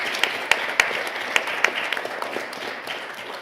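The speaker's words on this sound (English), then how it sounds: "we owe a couple rounds of applause" A small audience at a job fair claps for panelists, with a few sharp early claps growing into a modest, moderately distant patter of applause that thins out toward the end.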